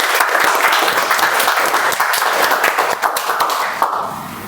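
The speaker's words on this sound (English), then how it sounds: "a big round of applause for the tag team and team" A room full of people at a Toastmasters club meeting claps loudly and steadily, the dense patter of hands holding for several seconds before thinning out and fading toward the end.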